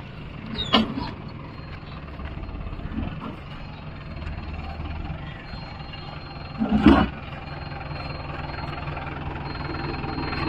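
Mahindra 605 Novo tractor engine idling steadily at low rumble, with a couple of brief louder knocks or clanks, outdoors on farmland before rotavator work.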